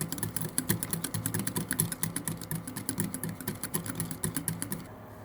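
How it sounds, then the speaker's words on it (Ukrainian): Rapid, steady clicking of a whisk beating eggs and vanilla sugar in a bowl, a continuous rhythmic rattle that stops near the end. "Підбиваємо ще раз дуже добре яйця"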